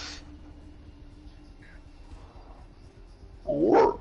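A dog barks in a short, loud burst near the end of the recording, picked up over a live PS4 game broadcast with low background hum and little else.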